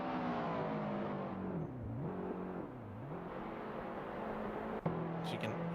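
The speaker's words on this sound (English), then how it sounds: "As you can hear the down changes braking for the chicane" Race car engine in a sim racing game at Thruxton, with a steady high-revving drone that dips in pitch twice as it drops through the gears, braking for the chicane, followed by a brief sharp blip near the end.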